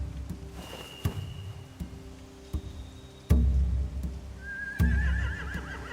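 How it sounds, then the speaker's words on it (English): Horses whinny in a stable with hay, a rising neigh near the end, with scattered hoof clops and dull thumps over a low, steady background. "They have horses."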